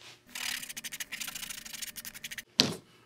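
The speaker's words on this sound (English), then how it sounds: "you can take your little sanding block and you can shape that up some" A small sanding block rubs quickly back and forth along the cut edge of leather for a saddle bag, a close, steady run of short scratchy strokes, then a brief pause and one sharper final scrape.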